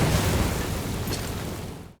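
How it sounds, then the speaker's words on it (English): An explosion in the VR shooter game Crossfire Sierra Squad: a loud, deep, rumbling blast that holds steady for about two seconds, then cuts off. "Out of all of the VR games I've played, this one has the best explosion sounds."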